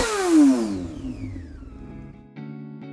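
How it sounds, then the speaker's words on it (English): A Yamaha R6 racing motorcycle from the RAF Motorsports road racing team screams past at high revs, its engine whine sweeping downward in pitch as it moves away and fades. A brief tonal jingle follows near the end. "That was the sound of a Yamaha R6 from the RAF Motorsports motorcycle road racing team."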